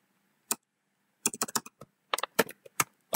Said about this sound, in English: Type in any name